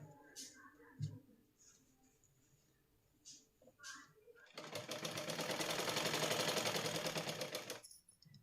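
A sewing machine stitches elastic on a blouse during an alteration, running in a steady fast whir for about three seconds after scattered handling clicks and brief talk.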